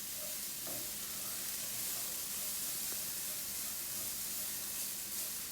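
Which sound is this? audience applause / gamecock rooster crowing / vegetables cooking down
vegetables cooking down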